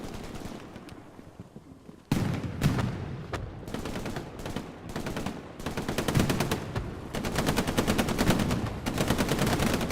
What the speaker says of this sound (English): that's MG34 actually, not MG42